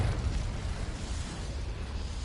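A Confringo fire spell blast in the Hogwarts Legacy video game, a dense continuous roar of low rumbling explosion noise held steady and loud throughout.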